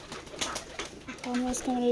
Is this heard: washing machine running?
no